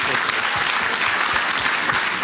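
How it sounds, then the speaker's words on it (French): A church congregation at an evangelistic gathering in Toronto applauds steadily: dense, loud, continuous clapping from many hands filling the hall without a break. "Acclamez."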